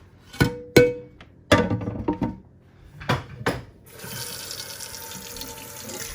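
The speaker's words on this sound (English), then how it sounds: "While this is draining, I'm going to wash this pan right quick." A pan is handled in a kitchen sink, giving several sharp metallic knocks and clanks, and then the tap runs with a steady stream of water over it, close and clear, no voices.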